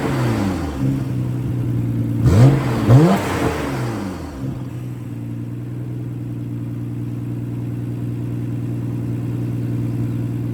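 Nissan Skyline R32 GT-R with its RB26 engine, run without a cat or muffler, sits at a loud steady idle, blips the throttle sharply twice, then settles back into a raspy idle, with nobody talking.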